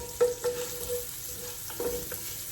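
Bison bolognese with added beef broth sizzles gently in a pan over medium heat, a steady soft frying hiss with a few brief, close pops scattered through it.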